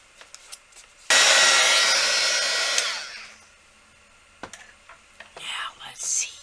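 Heat tool blasting onto a polymer clay Mardi Gras mask pendant, a loud close rushing whoosh that starts abruptly, holds about two seconds and tapers off, followed by quiet handling noises and a soft voice.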